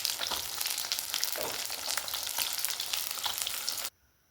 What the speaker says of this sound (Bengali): ওই তেলে আরেকটু সর্ষের তেল আরেকটু দিয়েছি, কালো জিরে ফোড়ন দিয়ে দিলাম